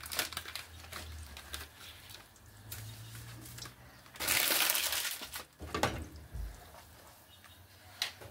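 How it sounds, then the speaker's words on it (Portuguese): Dry spaghetti tipped into a pot of salted water on the stove, giving a brief loud rattling clatter in the middle against quieter kitchen noise, with no talk. "E vamos até agora despejar o esparguete aqui."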